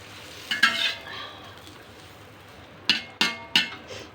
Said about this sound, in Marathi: मस्त असं बटर टाकत आहे या पाव गरम करून घेते